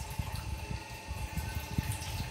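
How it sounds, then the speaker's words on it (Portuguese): Water pours steadily into the water tray of a new electric barbecue grill in a home kitchen by a sink, a soft continuous trickle and splash heard close up with no talking. "Aí tem que colocar água"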